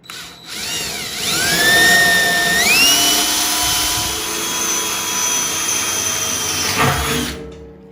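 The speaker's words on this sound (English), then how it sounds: "Get his bit and drill it right out." A power drill with a 1/4 inch bit drilling a hole in a drum smoker whines up to speed, its pitch rising and then holding steady for several seconds before spinning down; loud and close, with no voices.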